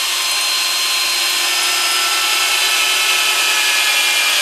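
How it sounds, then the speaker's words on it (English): An electric drill bores holes into the wooden body of a custom-built guitar, giving a steady, loud, high-pitched whine that holds for the whole stretch with no talking. "Now I'm going to drill, or rather over drill, the 4 body holes so that the screws are a firm fit in the holes"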